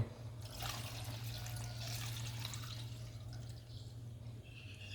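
Coconut milk poured into a pot for a young coconut jelly dessert, a soft, continuous liquid trickle over a steady low hum from the stove.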